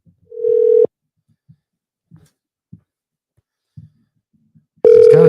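Ringback tone on an outgoing telephone call: a loud steady tone burst, then about four seconds of near silence with faint small clicks and bumps, then a second burst starting as the clip ends.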